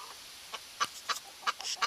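Chickens on a farm, a rooster among the hens, give soft scattered clucks, a handful of short calls in an irregular rhythm, fairly faint and close, with no talking.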